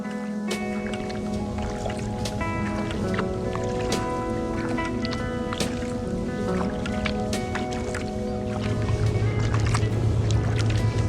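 A canoe is paddled upstream against a strong current on a canal in downtown Ottawa. Steady, close water wash and sloshing runs through the whole stretch with no one talking.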